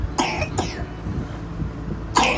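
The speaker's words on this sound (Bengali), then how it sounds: "এইরকম কাশি একটা সবসময় ওর হয়েই যাচ্ছে" A child coughs in three harsh, close bursts: a pair near the start and another near the end, with quiet breathing between and no talking.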